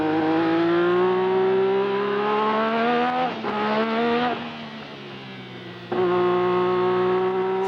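A Tyrrell Formula 1 car is heard from onboard at the Österreich-Ring. The engine wails loud and close, climbing steadily through the gears, dropping briefly on two lifts and then screaming on again.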